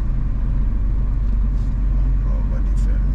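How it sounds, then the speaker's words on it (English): Road traffic on a Sunday in Nairobi, Kenya, heard from inside a moving car: a steady low engine and road rumble fills the clip, with faint passing vehicle noise. "Traffic on a Sunday."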